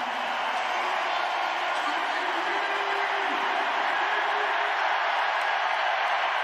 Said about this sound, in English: What a response from the crowd.